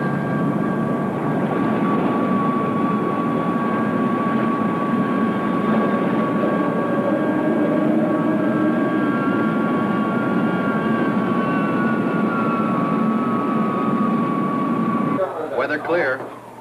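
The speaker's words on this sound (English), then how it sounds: "X-80, standing by for takeoff." Engines of the X-80 experimental aircraft roar during takeoff in a 1960 science-fiction film, a loud sustained jet whine with steady tones that rise in pitch, then the sound cuts off near the end.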